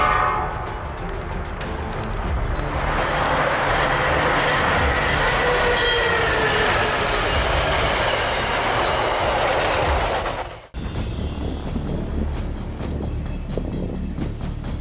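A 70 mph train roars past at very close range, a loud, steady rushing rumble with rattling wheels that lasts about ten seconds before cutting off abruptly into quieter background noise.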